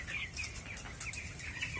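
A flock of about 950 broiler chickens, around 18 days old, clucks and chirps continuously inside a poultry farm shed in Thrissur, a busy, moderately close chorus.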